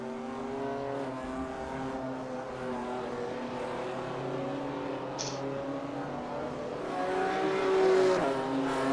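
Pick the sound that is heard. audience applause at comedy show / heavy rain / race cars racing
race cars racing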